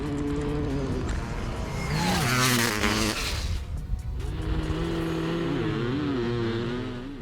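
A Stark Varg electric dirt bike rises and falls in pitch while drag racing, alongside the rising and falling drone of motorcycle engines, loud and close throughout.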